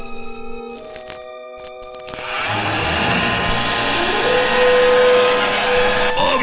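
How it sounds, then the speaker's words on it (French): A rising electronic whir swells into a steady, loud droning hum with tonal whines, like a powerful hair dryer spinning up, after some sharp clicks; an alien device from the film Killer Klowns from Outer Space. "un sèche-cheveux diabolique venu de l'espace"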